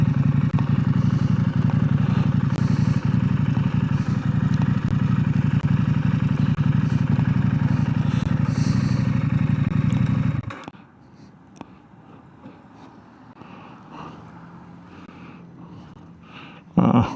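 A motorbike runs loud and steady with a continuous engine drone under occasional clatter, then cuts out abruptly, leaving a quiet outdoor background with faint sounds and some talk.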